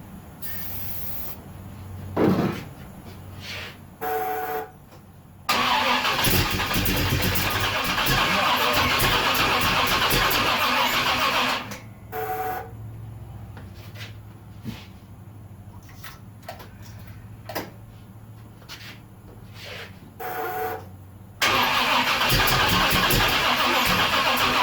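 A 1970 Pontiac LeMans with a 455 engine cranks on its starter motor in several long whirring bursts. Each burst is loud and close, with quieter pauses between them, and the engine never catches.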